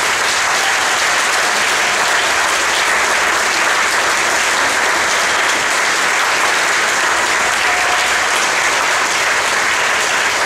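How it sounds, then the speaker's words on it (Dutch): A concert audience applauds a wind band performing in Moerbeke, a dense, steady wash of clapping from many hands that holds evenly throughout without a break. "Ik vond het wel dat die wel een heel mooi applaus verdienen hebben."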